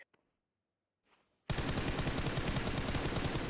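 Rapid automatic gunfire sprays in PUBG Mobile during a women's pro league grand final match, a dense loud burst of shots starting abruptly after near-silence and continuing without pause.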